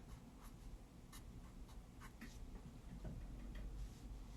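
A pen writes on a Mother's Day card, giving faint, close scratching strokes in short bursts with small pauses between them, no voices.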